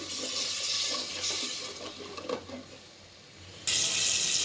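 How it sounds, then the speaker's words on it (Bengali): A close, rushing hiss of a little water poured into a hot pan of frying spice paste, easing off, then a sudden louder burst of sizzling near the end. "আমি এখানে অল্প একটু পানি দিয়ে নিলাম"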